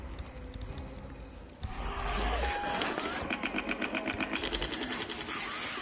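A tractor bomb's engine chugs closer in a video game, a rapid pulsing mechanical rattle that swells and grows louder after a quieter start, with a voice talking faintly underneath.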